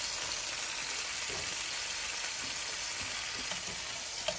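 Steak sizzling in a pan, a steady, close hiss of hot fat crackling evenly for several seconds, loud and unbroken with no speech.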